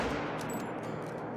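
A 6.5 hunting rifle firing in the hunting video game Call of the Wild, one close, loud shot whose rumbling echo rolls on alone and fades slowly.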